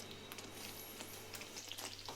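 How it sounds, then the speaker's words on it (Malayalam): A pan of date and lemon pickle bubbles and sizzles on the stove with a steady, soft, close crackle and no voices. "അപ്പോൾ നമ്മുടെ അച്ചാർ തിളച്ചുകൊണ്ടിരിക്കുകയാണ്"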